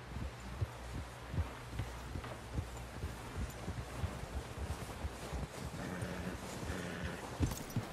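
Horse hooves clip-clop in Red Dead Redemption 2, a steady rhythm of soft thuds over low background rumble and wind, heard alone without talk.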